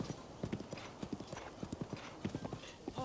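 Horse hooves beat a quick, rhythmic clip-clop while galloping in the video game Breath of the Wild, steady and clear, with a short neigh near the end.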